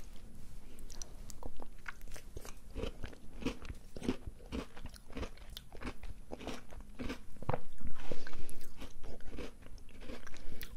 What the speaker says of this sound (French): Alors je vais goûter plutôt le coulis là.